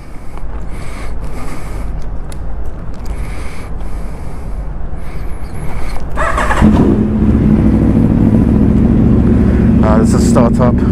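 Aprilia RSV4 RF motorcycle fitted with an Akrapovic carbon slip-on exhaust starts up after a stretch of outdoor noise, catching at about six seconds into a loud, steady idle with a deep burble.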